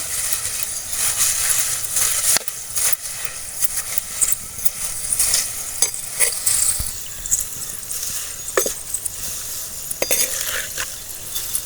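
Dried cluster bean (kothavarangai) vathal fry in oil in a pan, a loud steady sizzle with frequent scraping and stirring clicks throughout.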